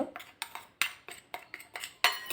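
Snack ingredients being tossed with chaat masala in a bowl, giving a run of about eight sharp clinks and scrapes in an uneven rhythm, close by and moderately loud, with no talking.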